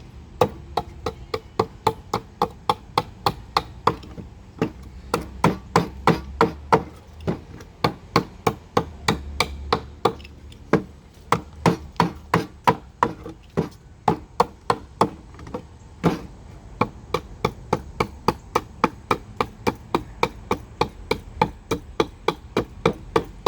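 A hatchet chopping into a pumpkin to rough out a carving, delivering rapid, evenly spaced sharp chops, close and loud, continuing almost without pause.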